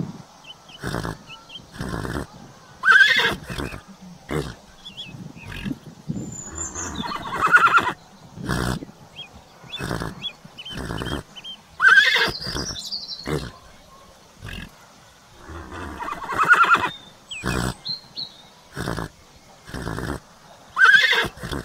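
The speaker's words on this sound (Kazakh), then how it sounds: "Құлын, ол жылқының төлі." A foal, a young horse, whinnying in repeated loud, shrill calls that rise and fall, spaced every few seconds and close by.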